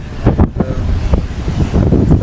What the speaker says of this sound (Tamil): இவ்வளோ காத்தடிக்குது.